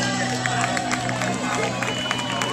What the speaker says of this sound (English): All right, let's just cheer on everybody.